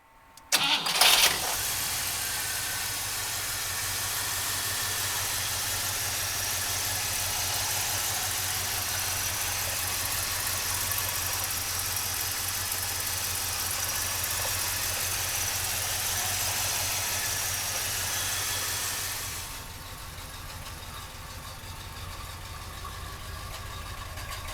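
A 1964 Pontiac Catalina convertible's 389 engine cranks briefly, catches, then settles into a steady, rumbling idle for close to twenty seconds before easing to a quieter idle near the end.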